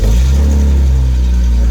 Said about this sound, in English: I'm going to go ahead and just fire it up real quick,